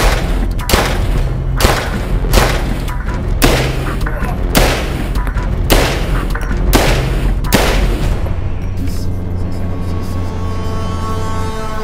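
Real firearms firing at a shooting range, about eight loud, close shots at a slow, steady pace over a constant background hum, followed by a ringing tail.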